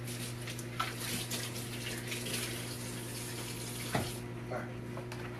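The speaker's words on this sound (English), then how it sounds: "Gotta wash my hands again." A kitchen tap runs steadily for hand washing, a faint constant stream of water with a low hum underneath and small splashes, close by.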